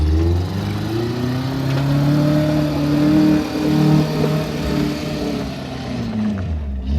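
Truck with a rebuilt 22R engine drives with a steady, loud mid-pitched engine drone that rises and falls slightly through the gears, close by and continuous, fading near the end.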